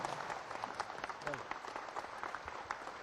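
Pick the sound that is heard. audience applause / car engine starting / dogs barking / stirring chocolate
audience applause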